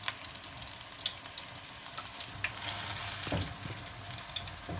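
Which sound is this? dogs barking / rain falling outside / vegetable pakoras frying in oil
vegetable pakoras frying in oil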